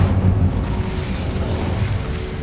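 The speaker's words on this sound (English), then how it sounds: "Incendio." Incendio fire spell cast in Hogwarts Legacy, a loud roaring eruption of flame with a strong burst at the start that settles into a sustained crackling, rumbling whoosh.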